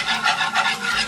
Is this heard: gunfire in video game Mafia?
no